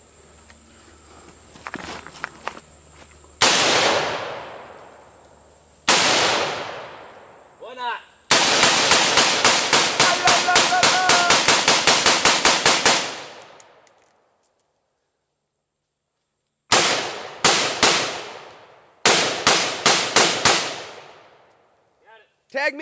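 M4 rifle fired outdoors at a bone target: loud, sharp single shots ringing out, then a rapid burst of many shots in quick succession, a pause, and more close, loud shots in short clusters.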